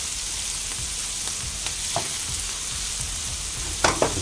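Taco filling from a Cinco de Mayo meal kit fries in a pan with an even, close sizzle, punctuated by a few light knocks and scrapes of the stirring utensil.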